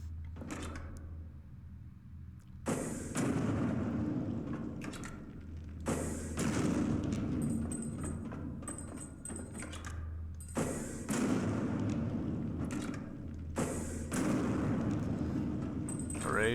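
Missile blasts in the video game Ghost Song boom again and again, several heavy bursts with rumbling tails separated by brief quieter gaps.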